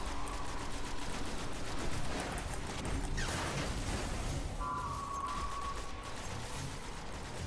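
Gunfire in a PS3 shooter game aimed at the player, dense and continuous, mixed with mechanical clatter and game sounds at a steady loud level throughout.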